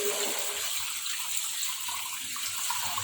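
Soaking water from rice seed of the Kumpay BSS1000 variety is poured off and drained, a steady close splashing and trickling flow with no talk.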